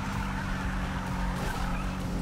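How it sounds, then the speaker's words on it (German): A car in the Need for Speed 2015 video game skids out, a steady, loud engine and tire rumble with squealing texture throughout, no speech over it. "Wow, bricht der Wagen plötzlich aus."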